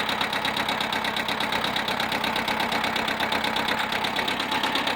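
Small tractor engine idling in low range first gear, a steady, close, rhythmic diesel-like chug with a knocking pulse and no talk.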